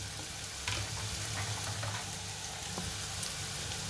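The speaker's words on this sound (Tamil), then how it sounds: "இந்த டயத்தில் நம்ம தக்காளி அடித்து வச்சுருக்கோம் இல்லையா, அதை ஊற்றிடலாம்." Ground tomato pours into a hot frying pan, setting off a continuous sizzle with faint crackles and a few soft clinks.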